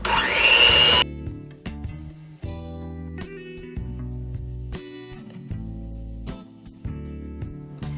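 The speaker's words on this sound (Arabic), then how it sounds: "وبعدين نخلط الخليط منيح على سرعة عالية" An electric mixer whirs steadily at high speed through chocolate chip cookie dough made with eggs, butter and powder, its motor droning with shifting pitch and small bumps as the beaters move.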